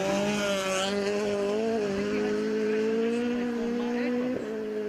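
A rally car screams at high revs on the Little Balloch special stage of a Scottish rally, its loud, sustained engine note climbing steadily and holding near the limit throughout.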